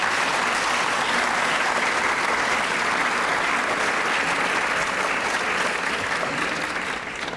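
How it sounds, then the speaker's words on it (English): Sustained audience applause for three finalists at a rural women's awards ceremony, dense and steady clapping from a large crowd that holds at full strength for about seven seconds before easing slightly. "can I please ask you all for another round of applause for all three of our finalists this evening"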